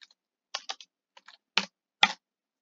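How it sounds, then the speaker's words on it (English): Commands for a text adventure game typed on a computer keyboard: several sharp, separate keystrokes in small clusters with short pauses, close and clear with no talking. "We type in inventory."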